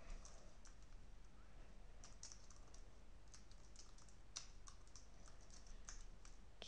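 Typing on a computer keyboard while a math expression for a particle-motion problem is entered, a steady run of light, quick key clicks with small pauses, close and fairly quiet, with no talking.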